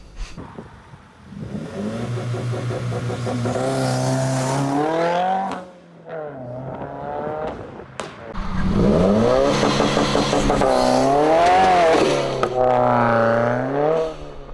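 A 2015-or-later Subaru WRX using launch control revs hard and holds high RPM. The engine drops off briefly, then a loud launch follows, pitch climbing steeply through aggressive acceleration with rough, raspy overtones.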